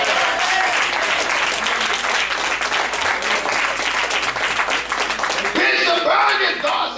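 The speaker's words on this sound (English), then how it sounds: "Somebody clap their hands." A church congregation claps loudly and continuously during a sermon, with energetic hand clapping mixed with shouting voices and crowd noise throughout.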